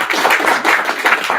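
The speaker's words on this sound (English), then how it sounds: "So big round of applause for that." Short burst of applause from a small meet-and-greet crowd indoors on a stormy New York City night, dense clapping with a few louder claps, close and fairly loud, no voices.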